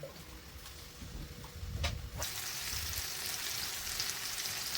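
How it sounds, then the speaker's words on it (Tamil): Broccoli and cauliflower fry in a pan, a soft steady sizzle, quiet at first, then louder and denser after a couple of sharp clinks. "இங்கே ப்ரொக்கோலி காலிஃப்ளவர் ஃப்ரை பண்ணிகிட்ருக்கிறேன்."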